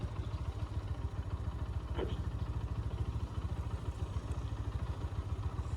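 A GPX Demon GR 165 RR Da Corsa motorcycle engine idles close by with a fast, even, throbbing rhythm that holds steady throughout, with no voices over it.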